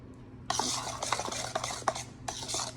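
A spoon stirs cookie dough in a bowl, making close, repeated scraping and clacking strokes in quick bursts with brief pauses, no voices.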